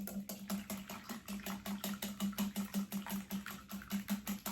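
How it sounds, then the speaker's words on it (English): Eggs are whisked in a bowl in fast, even, rhythmic strokes at about four per second, close and continuous, with no voices. "you're just going to whisk those eggs until they're nice and smooth"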